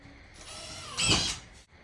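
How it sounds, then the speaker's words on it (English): A power driver whirs briefly as a screw is driven through drywall into a wooden stud, a short close mechanical burst that rises and then stops abruptly, with no talking. "Put your screw in right where your stud at."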